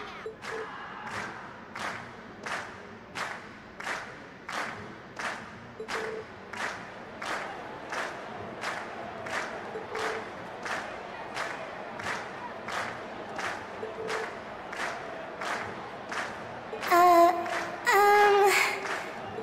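Crowd in the video game Trails of Cold Steel cheers and claps in steady, evenly spaced rhythmic bursts at a concert-like event, loud and continuous throughout, with a brief chiming game sound near the end.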